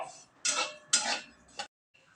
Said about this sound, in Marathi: चला आता मी तीळ मस्तपैकी भाजून घेते